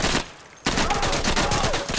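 Rapid automatic gunfire in the video game Insurgency, loud and close, in a dense burst that breaks off for a moment and then resumes as continuous rattling fire.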